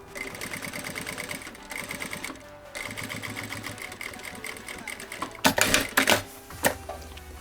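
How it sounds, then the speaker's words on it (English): Sewing machine stitching the ends of an apron, a rapid close mechanical chatter in quick bursts separated by brief pauses, ending with a few louder clunks as the fabric is handled. "So now what I'm gonna do is I'm gonna sew this together, securing the actual apron in place"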